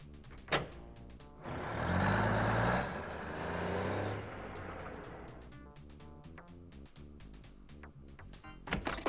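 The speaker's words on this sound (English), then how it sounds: "I don't think I've seen this truck before." In the Duckman adventure game, a truck rumbles as it backs up, with a burst of hissing air partway through and a steady run of pulsing tones, heard fairly faint and alone.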